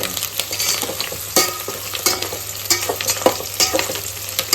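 Whole garam masala spices, including cinnamon, cloves and star anise, crackle and sizzle in hot oil for egg dum biryani, with continuous frying hiss and scattered pops and stirring scrapes up close.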